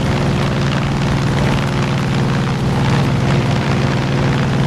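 Aircraft engine in the video game Far Cry 5, a loud, continuous droning roar with a throbbing propeller-like rumble that holds steady and close throughout.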